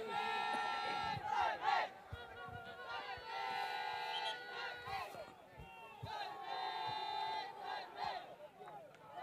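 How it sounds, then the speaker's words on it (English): Volleyball fans at a Sattari Volleyball Premier League 2023 match chant a player's name loudly and continuously, the crowd's voices swelling in rhythmic waves, with cheering and shouting throughout. "All the fans are chanting, "Servesh, Servesh!""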